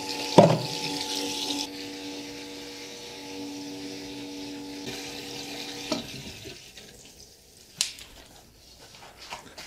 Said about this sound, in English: that's going to flood the master barrel, which floods pretty rapidly